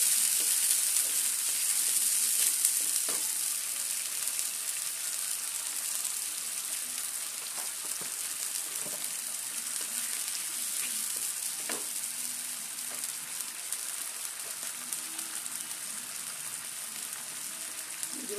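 Ginger garlic paste sizzles steadily in hot oil, a dense continuous frying hiss with occasional soft stirring clicks, close and fairly loud throughout with no voices.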